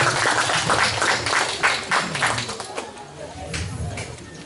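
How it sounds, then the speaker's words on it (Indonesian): Guests at a Sunday-morning Islamic study gathering, held as a thanksgiving for Pak Sutik's son, give Pak Sutik and his family a round of clapping that rises, dips and picks up again, with voices murmuring underneath. "Beri tepuk tangan untuk Pak Sutik dan keluarga."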